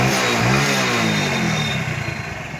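A Hero Splendor Plus motorcycle idling after an air-setting adjustment, its engine putting out a steady, close, low throb that eases slightly toward the end.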